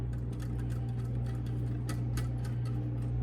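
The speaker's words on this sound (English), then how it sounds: "keep just whisking your eggs together there" Eggs being whisked in a bowl, giving a quiet, fast, steady ticking of the whisk against the bowl over a low hum in the background.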